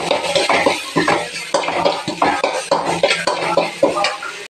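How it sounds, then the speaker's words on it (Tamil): Tomato, pepper and coriander leaves being sautéd in a pan for pepper rice, with a steady run of close scraping stirs and utensil clinks against the pan over a soft sizzle. "கொத்தமல்லி தழை சேர்த்து வதக்கிடலாம்."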